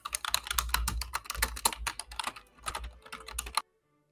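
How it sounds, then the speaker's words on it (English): Rapid typing on a computer keyboard, a close dense run of clicking keystrokes in uneven bursts for about three and a half seconds, then it stops abruptly. "What are you typing?"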